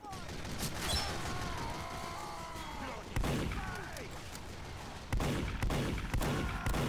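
Heavy gun fire in the Team Fortress 2 video game, a dense sustained burst of shots broken by short pauses near 3 and 5 seconds, loud and close over game sounds.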